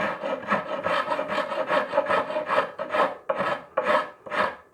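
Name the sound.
carving file rasping away excess wood on a guitar body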